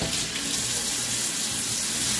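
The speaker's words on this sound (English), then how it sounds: "you rinse them off." Tap water runs in a steady, loud, hissing stream into a sink while tools are rinsed under it, continuous and unbroken.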